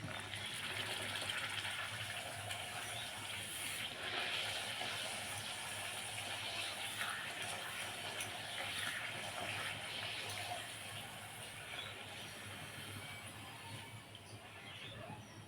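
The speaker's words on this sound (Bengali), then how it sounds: "কড়াইতে সাদা তেল দিয়েছি পাঁপড়গুলো ভেজে নেওয়ার জন্যে।" Papad frying in white oil in a wok, a steady hiss and crackle of hot oil running throughout at moderate loudness, easing slightly toward the end, with no talking.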